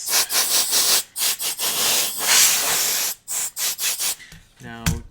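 Compressed air blasts in short repeated bursts, loud and close, blowing dust off the drive rollers inside a PS4 console, with a brief faint tone near the end.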